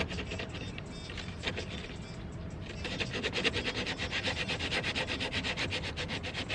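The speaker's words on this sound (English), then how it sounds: "Sand it down smooth." Sandpaper rubbed by hand over a curved car grill, a steady dry scratching that turns into quick, rhythmic back-and-forth strokes partway through, close and fairly loud with no talking.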